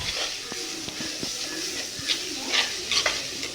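A squid curry mixture sizzles and hisses as it shallow fries in a pan, with a spoon stirring and scraping through it in short strokes, close and steady with no talking.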